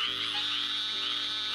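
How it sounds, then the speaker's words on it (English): Frogs croaking in the Okefenokee swamp of South Georgia form a dense, steady nighttime chorus, with layered calls droning continuously throughout. "There are almost two dozen different kinds of frogs and toads that populate the region."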